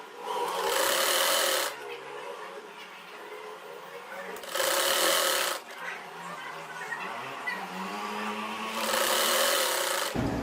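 A sewing machine stitches a shirt sleeve in three loud bursts of rapid whirring, separated by quieter pauses with faint handling sounds.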